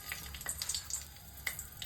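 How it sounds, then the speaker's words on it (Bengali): Dried red chillies and bay leaves sizzle in hot mustard oil in a wok for a tempering. The quiet, steady frying hiss is broken by a few sharp crackles and pops, with no talking. "গরম তেলে শুকনো লঙ্কা,"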